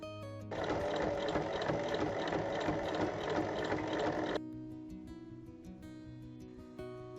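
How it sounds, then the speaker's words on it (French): A sewing machine topstitches along a fabric seam in a steady, fast mechanical whir. It runs for about four seconds, then stops, leaving quiet handling sounds. "Je vais faire une surpiqûre de chaque côté de la couture pour assembler les parties ensemble"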